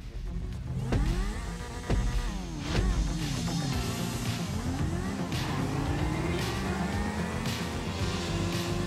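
A motorcycle engine in the game GTA V revs and shifts through rising and falling pitch during a race, loud and close, with sharp bursts of acceleration throughout.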